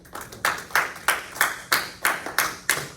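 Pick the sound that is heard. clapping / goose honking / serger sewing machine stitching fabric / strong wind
clapping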